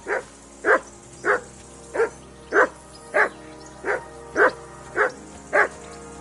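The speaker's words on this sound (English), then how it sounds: "Whistle at that mutt of yours to stop barking!" A dog barks ten times in a steady, evenly spaced rhythm in the video game Kingdom Come Deliverance 2, each bark short and fairly loud against a low background hum.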